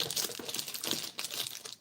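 Crinkling plastic bag, close and fairly quiet, with irregular rustles and crackles throughout and no voices.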